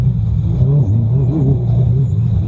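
Race car engine at full throttle during the Baja 1000 off-road race in Mexico, a loud steady low drone and rumble heard from inside the cabin, with no clear rise in pitch.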